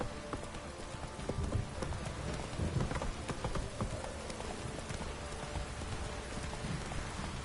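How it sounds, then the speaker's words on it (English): Rain falling in The Witcher 3, a steady hiss of rain on surfaces mixed with horse hooves clip-clopping, faint and continuous with no speech. "That's so rainy, my arse will rot off."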